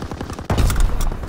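Artillery fire in a WWII video game: a sudden heavy boom lands midway, followed by a dense rumbling roll of blasts and crackle, loud and close, after a few lighter pops.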